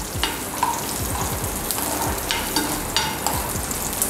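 Raisins and cashews frying in oil with a steady loud sizzle, punctuated by repeated scraping stirs of a spatula in the pan, with no talking.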